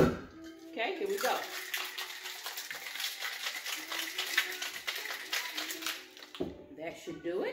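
A cocktail shaker with its top secured is shaken hard for about six seconds for a St. Patrick's Day Fuzzy Leprechaun drink, giving a steady, dense rattle that stops abruptly.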